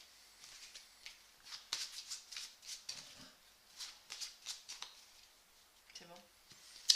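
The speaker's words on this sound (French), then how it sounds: "tu peux le mélanger avec les cartes qui te restent" Playing cards being shuffled make a run of quick, crisp riffling and flicking bursts close by. A soft voice murmurs briefly near the end.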